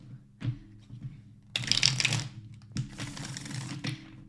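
Tarot cards being shuffled by hand in two bursts of crisp riffling, the second longer, with softer handling sounds around them and no talk.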